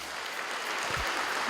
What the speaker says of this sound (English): Round of applause for the second speaker of Kokopo Secondary, Hilary Waluka